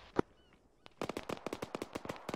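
A .50 caliber machine gun opens up with one sharp early shot, then after a pause fires a fast, evenly spaced string of loud cracks that runs to the end.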